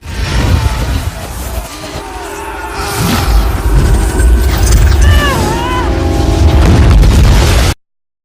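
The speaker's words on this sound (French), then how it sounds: "en voulant sauver la population d'une grenade déclenchée par Crossbones, Wanda envoie sans le vouloir ce dernier et sa grenade dans un immeuble" Grenade explosion in a Captain America film scene: a dense, loud rumble of blast and debris, with whooshes and a few high tonal cries layered over it, cut off abruptly near the end.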